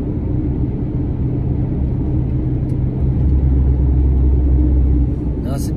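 A car climbs a winding mountain road, its engine and tyres making a loud, steady rumble heard from inside the vehicle, with people talking over the drone.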